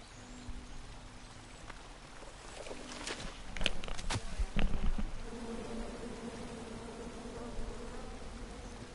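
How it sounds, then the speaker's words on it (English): Angry bees buzzing after a tree is chopped down in the King's Quest video game, a steady insect drone with a cluster of sharp impacts and crackles in the middle, moderately loud, with no talk over it. "And then you chop down the tree full of angry bees?"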